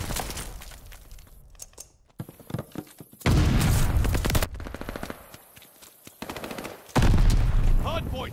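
Bursts of automatic gunfire in a Call of Duty Vanguard hardpoint match, loud and close, with heavy sustained volleys and booms separated by quieter gaps, under intermittent in-game announcer talk.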